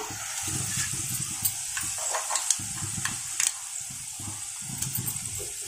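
Mustard seeds crackle and sizzle in hot oil for a tempering, a steady close frying hiss with scattered small pops over nearly six seconds and no voices.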